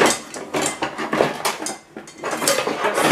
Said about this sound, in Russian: разобрать посуду и достать сковородку для блинчиков